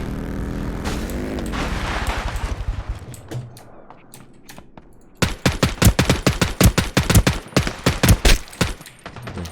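Gunfire from a firefight in Ring of Elysium: a long rapid automatic burst, then a dense string of loud, sharp shots fired in quick succession, with no talk.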